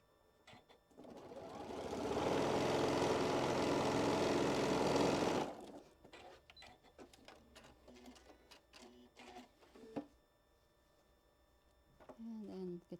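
A sewing machine stitches a quarter-inch seam on a quilt block, running in one steady, loud whirring burst of about four seconds before stopping, followed by quiet fabric handling and a soft voice.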